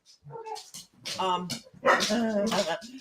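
A dog lets out a few short barks and yips mixed with whimpers, close and fairly loud, interleaved with a person talking nearby in Marfa, Texas.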